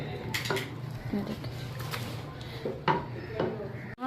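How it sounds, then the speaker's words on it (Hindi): Cooked chana dal being mashed in a pot with a masher: a series of close, soft thuds and scraping knocks of metal against the pot, irregular in rhythm, with occasional clinks. "आप लोग चाहें तो इसको मैशे से मैश कर सकते हैं।"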